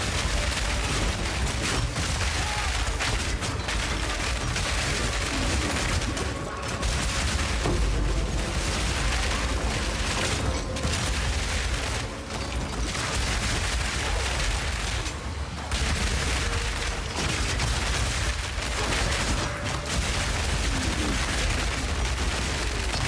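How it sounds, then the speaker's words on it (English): Artillery totems in Path of Exile 2 blast enemies with dense, rapid volleys of explosions and booming impacts, a loud continuous barrage with brief lulls throughout. "Pop down a couple of totems and explode everything that comes out of them"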